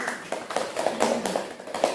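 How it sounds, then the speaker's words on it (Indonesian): Children in a group counseling session clap together, a quick burst of light, scattered handclaps heard close by with a soft voice murmuring underneath. "tepuk tangan dulu anak-anak"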